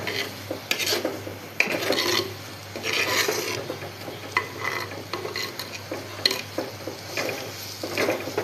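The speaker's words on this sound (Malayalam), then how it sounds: "ആ മസാലയൊക്കെ വെളിച്ചെണ്ണയ്ക്കകത്ത് കിടന്ന് നല്ലപോലെ ഒന്ന് മൂക്കുന്നിടം വരെ നമ്മളിങ്ങനെ ഇളക്കി കൊടുത്തുകൊണ്ടിരിക്കണം." Masala being stirred as it fries in coconut oil in a pan for an Idukki-style fish curry, with repeated scraping strokes over a steady sizzle, close and fairly loud, no talking.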